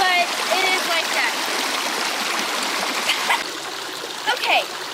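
A small waterfall in Wyoming flows among rocks, giving a steady close rush of splashing water with brief higher splashes, and faint chirps float above the water.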